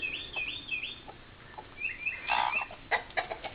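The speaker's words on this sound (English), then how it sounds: "Cluck, cluck, cluck." Soft clucks and throaty calls from a hen, fairly close, in a short irregular series with no voices.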